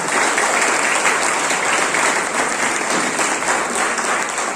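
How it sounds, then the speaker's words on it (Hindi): An audience at a national tour event applauds award achievers: loud, continuous clapping from a large crowd holds steady from start to finish with no speech on top. "उनके लिए जोरदार फिर से तालियां"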